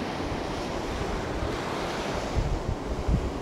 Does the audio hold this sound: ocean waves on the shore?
yes